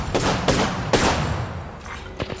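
Rapid gunfire in the video game Apex Legends, a close burst of several sharp shots in quick succession followed by a couple of fainter single cracks.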